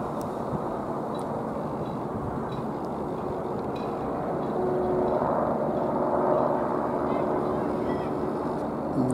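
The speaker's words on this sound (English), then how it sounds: "if you're wondering what the clatter is, it's a helicopter sitting up here" A helicopter hovers over Belfast Harbour Marina at night, its rotor clatter a low, steady rumble in the background that swells somewhat louder partway through.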